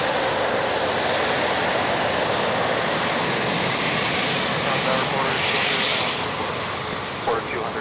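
A jet airliner roars at Toronto Pearson airport on an icy December day, a loud, broad, continuous engine rush filling the whole stretch and easing slightly toward the end, close by with no voices.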